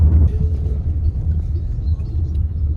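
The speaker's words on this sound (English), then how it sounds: "Afternoon traffic." Afternoon road traffic near a bridge in Guyana rumbles steadily, a continuous low drone of passing cars and engines, fairly loud and close, with no speech.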